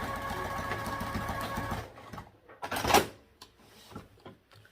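A sewing machine runs in a steady whirring burst while top stitching beside a zipper with a regular presser foot, then stops, followed by a few clunks and handling sounds.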